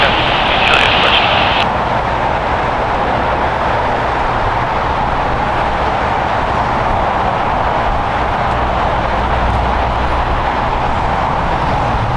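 A brand-new Airbus A321neo of American Airlines, Phoenix-bound, roars steadily at LAX, its loud, continuous jet engine noise filling the whole stretch without a break.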